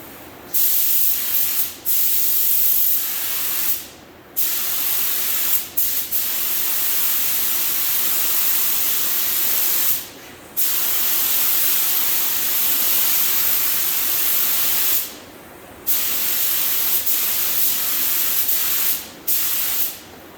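Spray gun applying dark sealer to a 1974 Corvette convertible body, a loud continuous hiss in long passes broken by several brief pauses between strokes.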